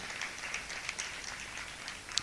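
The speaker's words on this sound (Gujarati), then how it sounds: "આપણે અભિવાદનને તાળીઓના ખોબલે ખોબલે વધાવીશું." Audience applause welcoming an education officer at a district-level maths, science and environment exhibition in 2024, a steady, faint wash of many hands clapping from a distance, holding for a couple of seconds without any voices.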